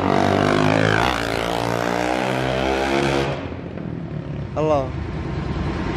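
A modified 330cc engine with an untuned carburetor revs loud and close, harmonics rising and falling over the first three seconds before settling to a rough idle, with someone talking briefly over it.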